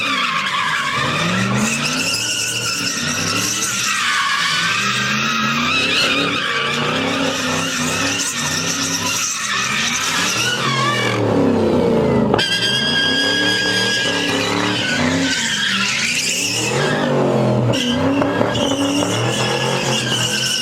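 A Camaro does a burnout at a downtown Los Angeles street takeover, its tires squealing loudly and continuously over a revving engine for the whole stretch.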